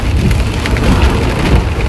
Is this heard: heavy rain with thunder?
yes